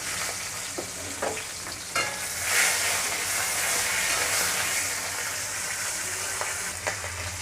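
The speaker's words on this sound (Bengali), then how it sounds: "আমার মাছের মাথা ভাজা হয়েছে" Hilsa fish head frying in hot oil gives a steady, close sizzle with crackling spits throughout, and no voices are heard.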